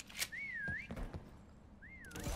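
In a Prop Hunt video game match, two separate rising-and-falling whistles sound a moment apart, clear and fairly close, with faint clicks and background noise between them.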